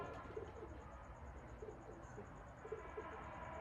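Faint, repeated soft cooing from Mian Sahib cross-bred teddy pigeons, a low rhythmic burble recurring several times over a steady hiss of background noise.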